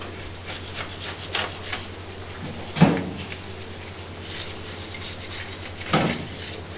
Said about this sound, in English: The mud is soft now, it's easy to scrape off.